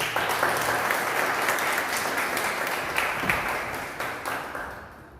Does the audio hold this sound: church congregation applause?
yes